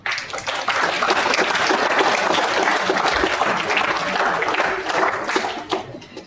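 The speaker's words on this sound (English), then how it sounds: "Please give a big round of applause for our judges, Sister Selva and Mrs. Bidhi Ragan." A large audience claps for the judges at a debate competition, with applause swelling to a sustained roar and then tapering off near the end.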